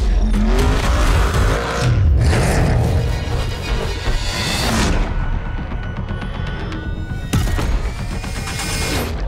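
A 2020 Ford GT500 in Forza Horizon 4 roars loudly, revving hard and accelerating, with tires squealing in skids and brief gaps between bursts of engine noise.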